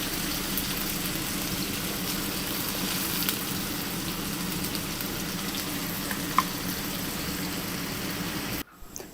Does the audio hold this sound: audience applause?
no